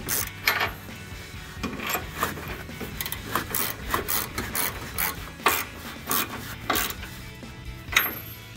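Bolts being tightened on a 2015-2020 Ford F-150 OEM-style rear bumper give off repeated rasping, ratcheting strokes in an irregular rhythm, close and moderately loud.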